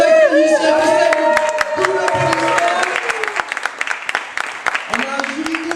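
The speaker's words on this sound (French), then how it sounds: "Donc, des applaudissements pour Lynn" Audience applause for a jury member at a slam poetry tournament in Brussels, a lively crowd of clapping with whoops and cheering voices mixed in, loud and close throughout.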